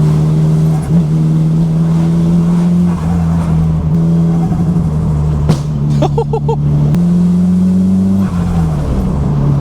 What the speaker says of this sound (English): Oh, what a sound, guys. That's a nice Porsche Carrera there.